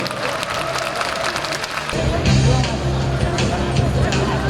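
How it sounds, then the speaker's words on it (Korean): Audience applause and cheering at an awards ceremony during the opening of a festival for disability organisations, a crowd clapping with a voice over a loudspeaker and louder cheering swelling partway through. "축하의 함성과 뜨거운 박수 함께 보내주시기 바랍니다"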